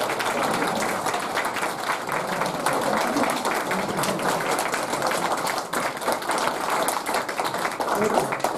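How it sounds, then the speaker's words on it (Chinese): Audience applause at a lecture event fills the room with steady, dense clapping that holds at an even level throughout, with no pauses. "では大きな拍手で"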